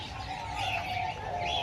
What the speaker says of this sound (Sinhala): සුදු ඒ පරවි විශේෂ